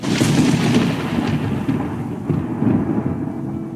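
Loud thunderstorm effect in an animated Urdu moral story about a little witch: a continuous deep rumble of thunder with a hissing rain-like wash, swelling and fading across the clip with no voices.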